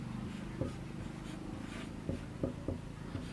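Chalk or marker taps and scratches across a board during a maths lecture on percentages, soft scattered strokes over a steady low room hum.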